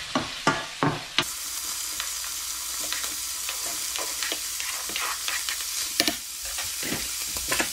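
Bacon frying in a pan until crispy, a loud close sizzle with repeated sharp scraping stirs and clatters of a utensil, steady throughout with no voices.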